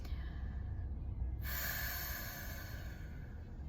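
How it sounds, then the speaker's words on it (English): A single long breath is let out during a guided worship prayer: a soft, airy rush that swells suddenly partway through and carries steadily to the end, close and alone over a low background. "go ahead and exhale out"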